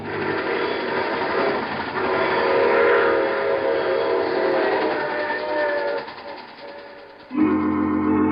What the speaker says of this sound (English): I take this same train every week at this time.